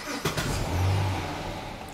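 Dodge Charger with a flashing electronic throttle body light and code P2173 starting up, a short cranking burst followed by a loud, steady engine idle close by.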